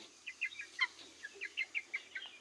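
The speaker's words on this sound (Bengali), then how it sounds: "যেন মুরগির বাচ্চা ছাউগুলো না বাইরে যেতে পারে" Chicken chicks kept in an enclosed pen peep faintly in a quick run of a dozen or so high chirps in a quiet setting.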